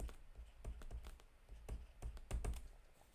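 Typing on a computer keyboard during a C++ programming lecture, with quick irregular bursts of close key taps and clacks, fairly quiet, no talking.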